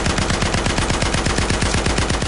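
Rapid gunfire in a gangland restaurant shootout, dense repeated shots in a fast steady rhythm, loud and continuous throughout with no talk.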